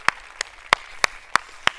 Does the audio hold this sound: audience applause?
yes